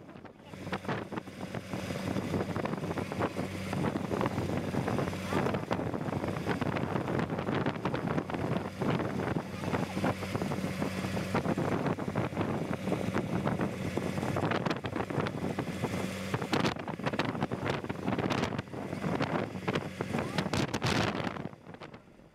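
Strong wind at sea roars and buffets the microphone continuously from a passing boat near a burning fishing boat off Visakhapatnam, with a low engine rumble underneath.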